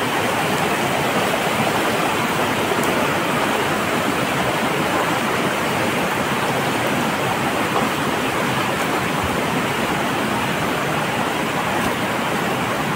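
Nalkund waterfall near Buldhana pours in a continuous broadband roar, dense and unchanging, loud and close with no voices, like heavy rushing water filling the air.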